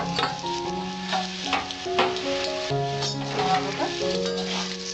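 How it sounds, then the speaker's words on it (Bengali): Potato pieces sizzling and frying in a pan of oil for a Bengali pabda fish curry, a steady crackling hiss with occasional stirring, under background music. "আলুটা ভাজা হয়েছে"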